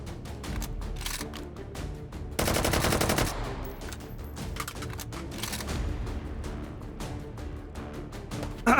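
Gunfire in the VR shooting game H3VR comes in rapid, close bursts, with one dense sustained volley partway through and scattered single shots and clicks around it.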